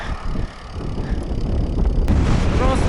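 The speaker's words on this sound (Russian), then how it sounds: "Просто ни с того ни с сего ветер дикий пошел оттуда прямо." Strong wind ahead of a thunderstorm in Mongolia buffets the microphone during a bicycle trip, a steady low roaring rumble growing heavier partway through, with faint voices in the background.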